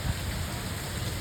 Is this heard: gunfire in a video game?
no